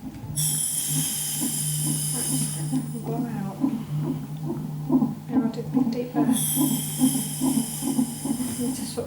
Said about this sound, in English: Just try a long, slow, deep breath.